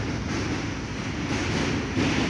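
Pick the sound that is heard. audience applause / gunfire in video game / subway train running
subway train running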